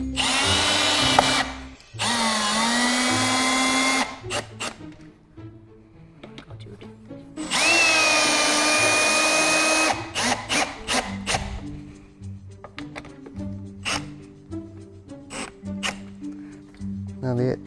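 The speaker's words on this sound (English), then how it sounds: "use the longer screws for your strike plate. This would be a time to use a drill." Power drill driving long screws into a door strike plate while a door knob is replaced, with two long whirring runs and a series of short trigger bursts, close and loud, and people talking between them.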